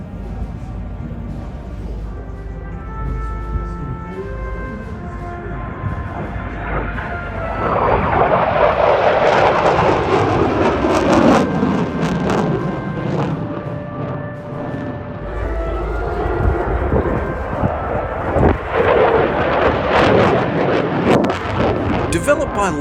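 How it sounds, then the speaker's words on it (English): A Lockheed Martin Boeing F-22 Raptor flies at the 2023 Australian International Airshow, its jet roar swelling loudly as it passes, sweeping down in pitch, fading, then building again. Faint talk may come through near the start. "it was time to check out the F-22 Raptor on display and in action"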